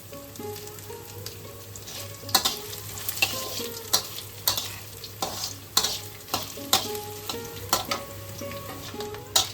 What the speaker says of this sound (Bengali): তখন আমরা কিছু নারকেল কুচি দিয়ে দেবো